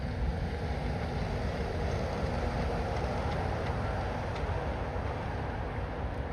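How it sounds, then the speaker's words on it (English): A teal Walt Disney World monorail passes with a steady low rumble and hum, a continuous rolling drone at moderate distance without voices. "Teal monorail. My favorite."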